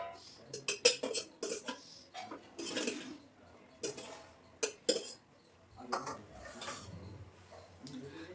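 A plate and utensils are handled while rice is served for lunch, with scattered clinks and scrapes of cutlery and dishes, close and fairly quiet.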